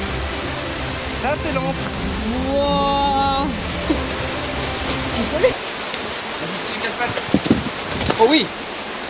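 Waterfall in the Vercors mountains heard from near a cave behind the falling water, a broad steady rushing wash under excited voices, dropping away midway as sharper splashes and voices continue.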